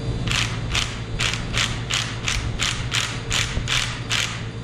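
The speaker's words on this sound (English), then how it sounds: "nice and easy with the stud extractor" Stud extractor working engine deck studs out of a 94-year-old Ford Model A engine block, giving a steady run of about ten evenly spaced mechanical ratcheting clicks over a constant low hum, close and fairly loud.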